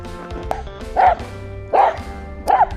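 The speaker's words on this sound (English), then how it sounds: "the dog's barking at him, if you can hear that" A dog barks indoors during a power outage, three sharp barks at a steady interval, fairly loud and close, with faint handling noise between them.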